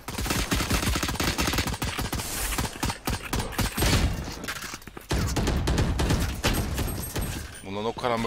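Gunfire in the Valorant shooter game, rapid loud bursts of shots and automatic fire in quick succession, with voices talking over the shooting.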